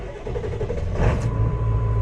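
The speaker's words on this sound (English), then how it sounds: "Truck starts right up." A Ford 7.3 Powerstroke diesel truck engine cranks and fires up after a fuel filter replacement, settling into a loud, steady rumbling idle nearby, with no voices.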